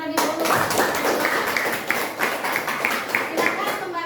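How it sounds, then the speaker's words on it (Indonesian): Classroom applause for a group that has just finished presenting, a dense burst of many hands clapping close by that stays steady for about four seconds and then thins out. "Kita beri tepuk tangan terlebih dahulu."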